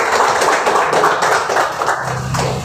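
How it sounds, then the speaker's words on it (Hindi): Audience clapping at a ceremony honoring recruits cleared for the SSC GD 2023 exam, a steady crowd of many hands patting in a dense, continuous rhythm for a few seconds, fairly loud and close with no one speaking. "और एक बार ताली बजाते हैं जब आ रहे हैं।"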